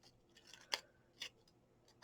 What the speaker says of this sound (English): use your fancy scissors to cut the open end of it, and just cut a wee ridge along the bottom